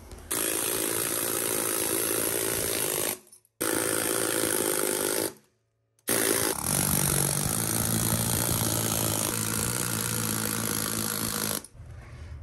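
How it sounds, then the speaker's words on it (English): A pneumatic chipping hammer rattles loudly and continuously against a concrete floor around a toilet perimeter, stopping briefly twice before resuming its harsh, rapid hammering. "the first one up is a pneumatic chipper, and my only goal with this is to break through this perimeter"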